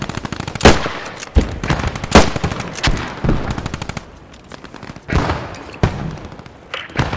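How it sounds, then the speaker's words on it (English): Machine gun fire in the video game Post Scriptum: loud, repeated rapid bursts and sharp single reports spread through the stretch, some close and punchy, others fainter, with no talk. "We're getting shot from behind somewhere."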